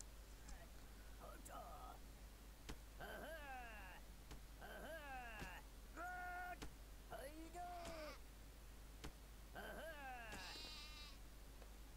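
Sheep in the Craft the World video game bleat in a series of short wavering calls, several bleats spaced irregularly over a low steady hum.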